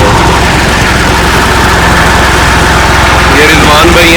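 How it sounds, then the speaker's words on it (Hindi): A Massey Ferguson MF-260 turbo tractor running at a dealership in Lodhran, a loud steady low engine rumble throughout, with faint voices and a brief higher-pitched sound near the end. "ये ट्रैक्टर को बाहर निकाल रहे हैं।"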